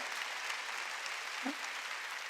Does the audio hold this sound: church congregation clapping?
yes